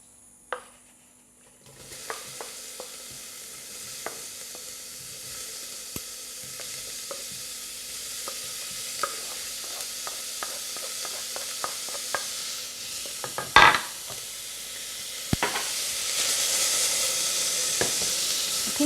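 Onion and bay leaf sizzling in a pan for millet burgers, a steady crackling hiss that grows louder over time, punctuated by occasional spoon taps and stirs, close and without talk.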